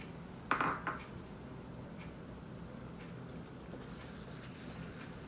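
Mutton tipped into a pot of hot oil in a home kitchen, with a sharp metal clink and clatter near the start, then a low, steady background hiss for the rest.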